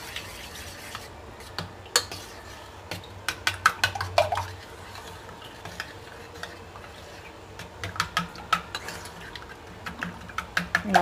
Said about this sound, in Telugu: పచ్చిమిర్చి, ఉల్లిపాయలు, ఇవన్నీ మిక్స్ చేసుకోవాలి బాగా